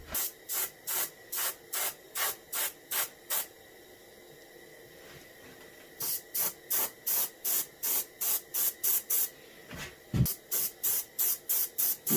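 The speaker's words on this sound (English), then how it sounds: "Blending everything in by angle spraying it." Short bursts of airbrush spray hiss in a quick, regular rhythm, pausing briefly before the rapid puffs resume, close and crisp, while painting a reproduction warmouth fishing lure.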